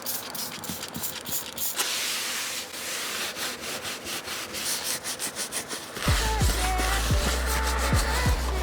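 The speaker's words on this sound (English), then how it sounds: "let's spray it." A spray bottle of cleaner mists a surface with a steady, close hiss in long bursts. The sound then shifts to a rougher, lower rushing noise near the end, and no one speaks.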